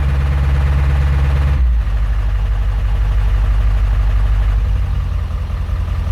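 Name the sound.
diesel truck engine at high idle with ReviewDiesel Medusa tune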